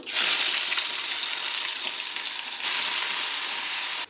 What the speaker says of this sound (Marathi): आता तेल गरम झालं जिरं त्याचं वाटण आपण बनवलं होतं ते यात टाकू